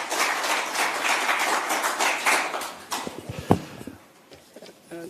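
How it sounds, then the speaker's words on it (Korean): A seated audience at a South Korean People Power Party policy forum applauds as the party leader steps up, dense clapping that thins out and fades to a few scattered claps and knocks near the end. "뜨거운 박수로 대표님을 환영해 주시기 바랍니다."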